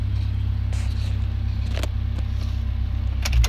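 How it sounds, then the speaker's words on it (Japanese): A Honda S2000 (AP1) with a J's Racing aftermarket muffler idles with a deep, steady exhaust rumble and a faint rhythmic pulse, close by, with a brief louder burble at the end. "なかなかジェイズレーシングのマフラーいい音してますね。"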